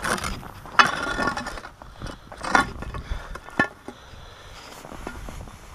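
An ice auger wrenched around in a freshly drilled hole through thin shoreline ice, giving scattered scraping, grinding and creaking bursts of metal against ice, fairly close, with no talk.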